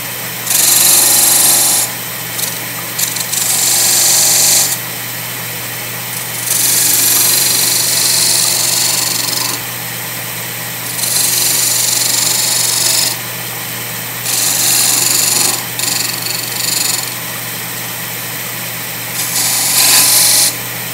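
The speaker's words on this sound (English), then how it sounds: "Now I'm gonna form my bead with my point tool" A wood lathe spins a wig stand blank while a point tool forms a bead. A steady motor hum runs throughout, and loud hissing cutting bursts come and go in repeated passes of a few seconds each.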